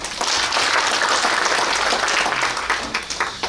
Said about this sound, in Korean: 박수로 보내주시기 바랍니다.